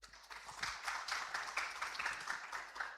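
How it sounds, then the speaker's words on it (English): Faint, steady applause from a conference audience at a brain health event, a soft even patter of many hands lasting the whole stretch with no voices over it. "A round of applause to them."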